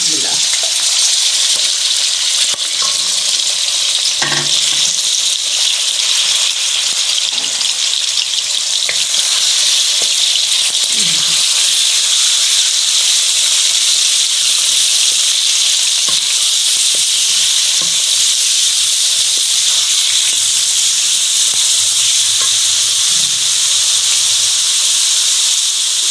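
Chicken frying in about 50 to 60 grams of oil in a pan, a loud, steady sizzle and hiss that runs without break, with faint stirring scrapes now and then.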